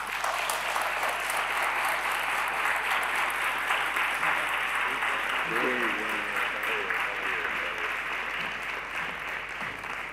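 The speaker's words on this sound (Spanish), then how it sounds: "un fuerte aplauso, por favor" Sustained applause from an audience at a tribute ceremony honouring an official chronicler, steady and dense for several seconds, with a voice briefly speaking over it midway.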